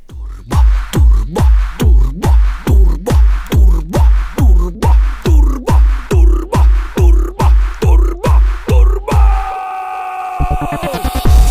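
A flood-damaged Suzuki Cappuccino gives a rapid run of loud, rhythmic mechanical pulses, about two per second, ending in a steady rising turbocharger whine with a high tonal whistle.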